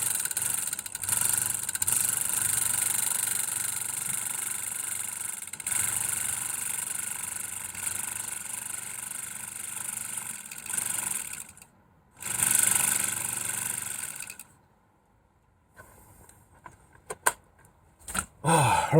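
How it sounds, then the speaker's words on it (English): A used hot tub's circulation pump runs with a steady mid-pitched motor hum and whine for about eleven seconds, then cuts out, briefly restarts, and falls silent apart from a few scattered knocks. "we know the pump's working"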